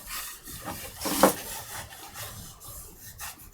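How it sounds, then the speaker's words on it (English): A chisel pares high spots off a wooden printmaking block, giving soft, close scraping rubs of steel on wood with one brief louder stroke partway through, all quiet and without talk. "The finger looks for high spots, identifies a high spot, pulls back onto the chisel."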